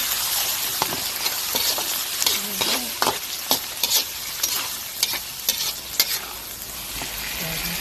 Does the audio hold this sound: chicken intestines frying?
yes